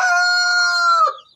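A rooster in a backyard chicken pen crows one long, loud, close cock-a-doodle-doo, held steady for about a second before cutting off abruptly.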